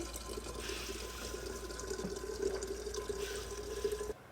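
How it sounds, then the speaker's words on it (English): Water sloshes and glugs steadily from a large 40-ounce insulated bottle as someone drinks from it, a close, continuous liquid sound with no talking. "With that, let me take a sip."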